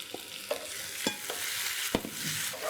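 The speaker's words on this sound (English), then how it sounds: "Fry it until it's soft. The last one, add the chilies." Garlic and chilies fry in a pan for a Balinese seaweed salad, giving a steady close sizzle broken by several sharp scrapes and clacks of a stirring utensil.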